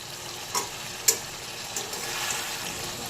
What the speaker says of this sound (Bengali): অল্প একটু চিনি দিলাম জল দিয়ে দিলাম আর নেড়ে নেব